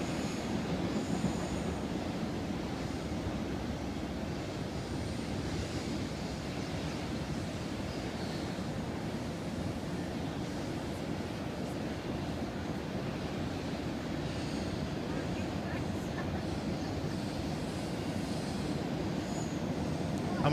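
NYS&W freight train heard from the Shawangunk Ridge Trail at Gobbler's Knob, passing below the ridge as a steady, distant rumble and roar of rolling cars with faint wheel squeal, continuous and even throughout.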